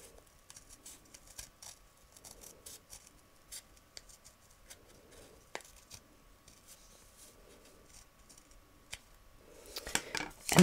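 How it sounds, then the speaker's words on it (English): Scissors snip through quilting fabric for a scrappy Easter quilt wall hanging, a faint, steady run of small crisp cuts close by that grows louder and busier toward the end. "I just simply keep cutting."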